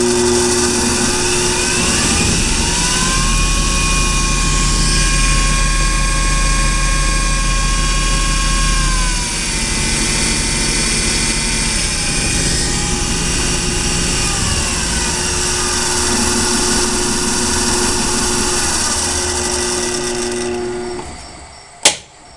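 A Duracraft lathe converted to a DC motor runs with a sustained whine whose pitch rises and shifts as the speed dial is turned, loud and close, ending with a sharp click as it stops.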